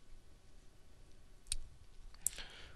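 A couple of faint, sharp computer mouse clicks a little apart over quiet room hiss, pressing an update button on a web page.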